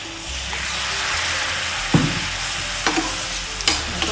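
Boal fish curry with chili powder and a splash of water being stirred in a pan, a steady sizzle with a few sharp spoon scrapes and knocks standing out near the end.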